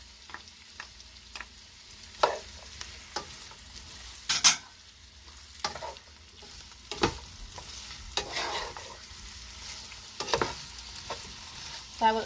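Garlic sizzles in a pan for Trinidadian saltfish while a spoon stirs and scrapes at irregular moments, giving soft frying hiss broken by sharper clinks and scrapes, with no talking.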